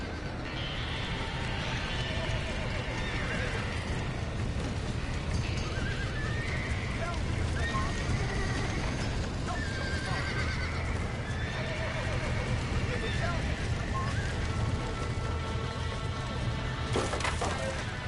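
In the video game Red Dead Redemption, several horses neigh and whinny amid hoofbeats, with fire crackling and shouted voices in a busy, noisy scene.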